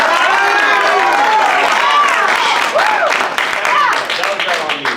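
An audience claps and cheers loudly and steadily, a dense wash of applause with voices mixed in that eases slightly toward the end.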